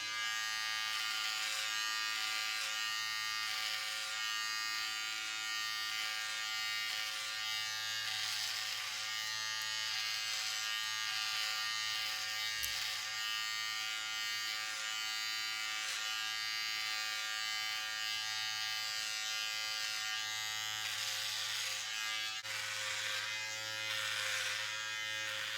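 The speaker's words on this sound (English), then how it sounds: "I'm going to use my husband's beard trimmer because it's smaller, it's quieter, it still gets the job done" A small, quiet beard trimmer fitted with a size 3 guard buzzes continuously and close up while clipping hair during a home buzzcut, its steady hum shifting slightly as it moves.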